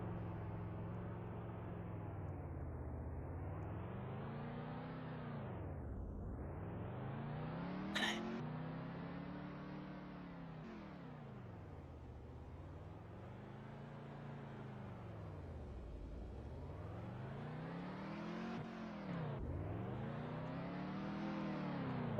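A race car doing donuts in Nashville, its engine note rising and falling in smooth repeating sweeps as it circles, steady and moderately distant, with a brief sharp burst partway through.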